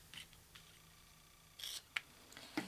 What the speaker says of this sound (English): you can simply snip them off with a pair of scissors. Snip off any of the excess here.